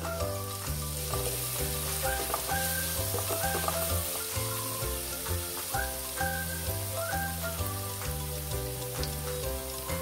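Aloe vera pieces frying in a pan with a pinch of asafoetida give a steady, close sizzle that runs throughout, partly overlaid by a tonal musical bed.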